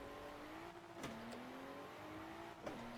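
A race car launches with launch control in the Forza Horizon video game. Its engine revs and drops through rapid gear shifts over a few seconds, with the steady tone rising and falling, and no one speaks.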